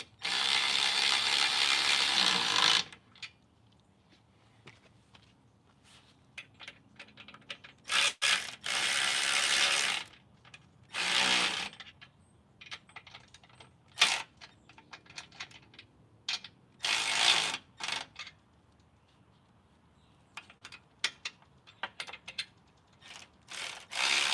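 Ratchet tightening bolts on a Jeep JK, repeated bursts of rapid clicking separated by pauses and quieter handling noises, close and fairly loud.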